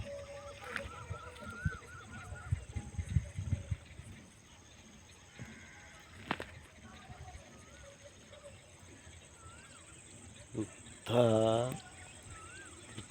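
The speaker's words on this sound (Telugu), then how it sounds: "ఇట్లా ఆ పక్షి అరుస్తా ఉంది చూడండి" A single loud bird call rings out near the end over faint outdoor background noise and scattered distant sounds.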